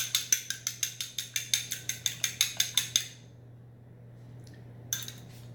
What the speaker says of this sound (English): I have my 2 eggs here. Let me beat them a bit.